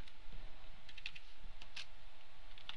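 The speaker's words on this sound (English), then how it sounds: "Let's type in a little message to ourselves here" Computer keyboard typing, with a quiet run of key clicks and a few sharper taps at an irregular pace over a steady low hum, no voices.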